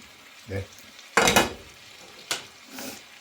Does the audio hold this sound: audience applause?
no